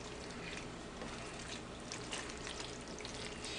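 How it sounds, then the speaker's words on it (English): Two utensils stir a large batch of hot macaroni and cheese, close and soft: a steady wet squishing and sizzling texture with no talk. "So you can take 2 utensils and just kind of stir it in there."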